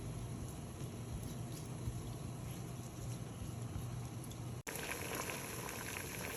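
Salted water boils steadily in a pot for rigatoni pasta, a continuous soft bubbling and hiss heard close up with no talking.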